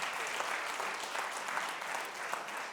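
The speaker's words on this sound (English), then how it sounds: "So let's give a round of applause to all of our recognition activities." An audience at a State of the Schools address applauds steadily, a dense wash of many hands clapping at an even level for the whole stretch, with no voices standing out.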